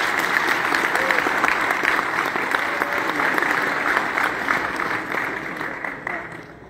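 A crowd at a Hot Wheels collectors nationals finale gives a sustained round of applause, dense and loud clapping that tapers off slightly toward the end.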